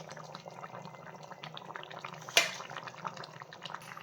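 Chicken simmers in a pot for a Bengali chicken curry, a steady close bubbling with light pops and one brief louder clink partway through. No talk.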